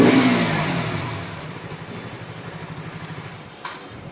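A KTM RC125 motorbike engine, a BS6 model, revs up loudly close by, then settles into a steady rapid throbbing as the revs drop and hold, running alone without voices.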